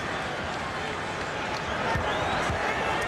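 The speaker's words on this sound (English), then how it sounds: "you hear the chant of Kobe from this crowd here at Staples" A Staples Center basketball crowd roars in a dense steady wash, the noise swelling slightly as it goes on, with court sounds underneath and no voice on top.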